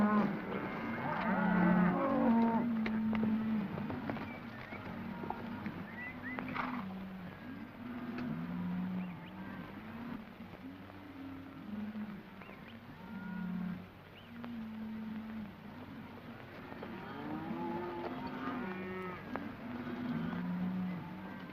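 A herd of cattle moos repeatedly near a dry creek on a 1936 western cattle trail, low drawn-out calls overlapping at moderate distance over outdoor background noise.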